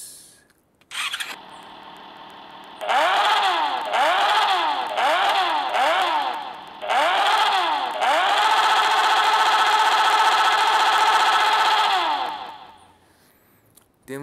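A Suzuki GSX 1000cc motorcycle in a mobile motorcycle game starts up and revs repeatedly in sharp bursts before holding a long high rev, synthetic and close with no talking.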